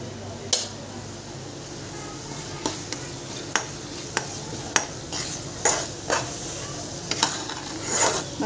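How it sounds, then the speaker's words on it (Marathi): Masala spices, including coriander powder, fry in oil for a chicken curry while being stirred in a pan, with a steady soft sizzle and sharp metallic scrapes and clinks of the spoon at irregular intervals. "मस्तपैकी मसाला फ्राय होतोय आता."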